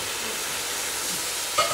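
Onions are stirred in a pressure cooker, making a soft, continuous sizzling hiss with faint scraping, and a brief clink of a utensil against the pot near the end.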